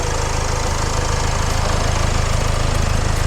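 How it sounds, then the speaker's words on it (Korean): A Land Rover Discovery Sport 2.0 TD4 diesel idles with the bonnet open, a steady, even low rumble with fine rhythmic diesel clatter, close and loud, with no talk over it. "엔진 소리 일정합니다."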